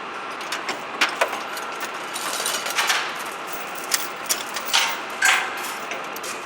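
Hand-operated chain hoist hauling a Boeing 707 jet engine up into its pylon, irregular metallic clicks and ratcheting clanks of chain links, moderately close with quiet gaps between pulls.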